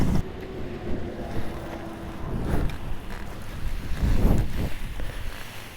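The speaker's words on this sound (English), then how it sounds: "There's a lot of wind." Strong wind buffeting the microphone during a paramotor flight at Church Rock in Moab, Utah, a continuous loud rumbling roar that swells and gusts throughout.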